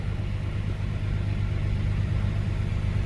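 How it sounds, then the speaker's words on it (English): A Nissan GT-R R35 engine idles with a steady low rumble, unchanging and continuous for the whole stretch. "seems to idle pretty good"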